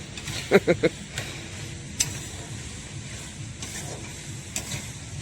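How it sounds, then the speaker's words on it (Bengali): Picnic meat being stir-fried in a kadai gives a quiet, low sizzle with a few sharp metallic scrapes and clinks of the spatula, and faint voices in the background. "এই যে আমাদের পিকনিকের মাংস কড়াইতে চেপে গেছে, এখন মামুনি মাংস কষাচ্ছে।"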